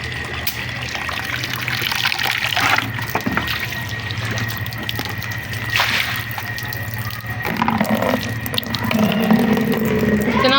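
Water is poured and trickles across a floor during household cleaning, a continuous close splashing and dribbling that shifts and swells toward the end, with faint bumps of handling mixed in.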